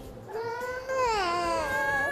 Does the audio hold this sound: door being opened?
no